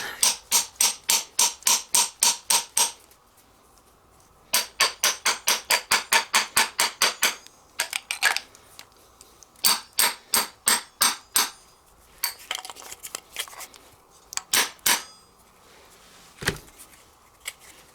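Rapid metallic hammer strikes from a Craftsman tool used as a hammer on a failed Tesla air suspension compressor come in quick bursts of about a dozen blows each, separated by short pauses, loud and close.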